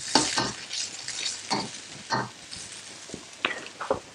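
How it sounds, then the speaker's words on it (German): Bacon and chili frying in a pan for Grammelknödel, with no added fat, giving a low steady sizzle broken by repeated stirring scrapes and clatters, close and moderately loud. "Den Speck lassen wir uns ein bisschen anlaufen"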